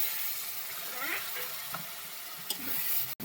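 Water goes into frying masala for a mutton curry with potatoes, giving a continuous close hiss and sizzle, broken by a few faint stirring scrapes and clicks.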